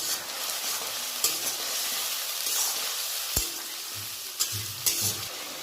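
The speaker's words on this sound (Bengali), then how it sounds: "শুকনো লঙ্কা বাটা, এবার একটু নেড়ে নেব ভালো করে।" Dried red chili paste being stirred in a hot frying pan for a Bengali fish curry, a steady sizzle with several sharp scraping knocks of the spoon against the pan, close and alone.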